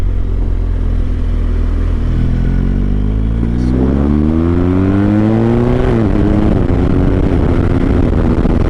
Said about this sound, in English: Definitely a deeper sound than on the stock exhaust.